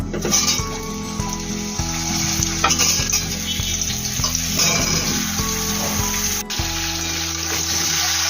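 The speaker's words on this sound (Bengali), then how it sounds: "আমটাকে আমি 3 মিনিট করে ভাজা করে নিয়েছি।" Mango pieces sizzle and crackle steadily in hot mustard oil with tempering spices, with occasional stirring scrapes and a brief clink near the end; no voices.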